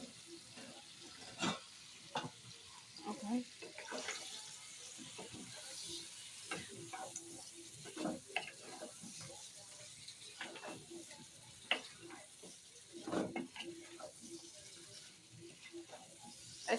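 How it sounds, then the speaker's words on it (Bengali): Pointed gourd and potatoes sautéed in a spice paste, a quiet sizzle with irregular clacks of a spoon against the pan, close and soft, with no talking. "এখন পটল দিয়ে একটু কষাই নেব। বিসমিল্লাহির রহমানির রহিম। পটল আর আলু দিয়ে দিলাম।"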